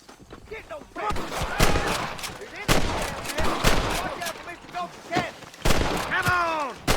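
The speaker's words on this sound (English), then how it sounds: "Let's get as close as we can before opening fire" A gunfight in Red Dead Redemption: scattered rifle and pistol shots crack in irregular bursts, loud and close, with shouting voices between them.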